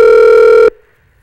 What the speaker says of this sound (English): I have a new phone number for Frank tonight